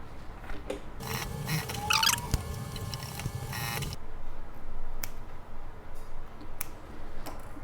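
A sewing machine stitching the lining of a bag runs in a short whirring burst of about three seconds, then stops, leaving quiet rustling and a few faint clicks.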